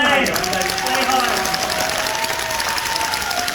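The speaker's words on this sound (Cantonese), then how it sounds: "嚟俾掌聲！" Applause from a theatre audience at an improvised theatre competition, a steady dense clatter of many hands filling the room from start to finish.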